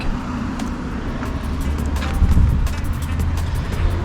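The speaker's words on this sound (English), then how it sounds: "We're driving the VW, which is sort of sucky, but it's still good enough." Steady engine drone and road rumble from inside a moving Volkswagen car in Germany, continuous and fairly loud, with no one speaking.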